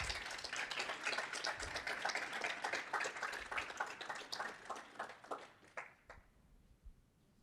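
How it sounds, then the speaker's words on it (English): A crowd claps for the fifth-place team at a 2022 Happy Valley Capital pitch competition: thick, even applause for about six seconds, then it breaks off abruptly, leaving only quiet room tone. "Ithaca. A round of applause, please."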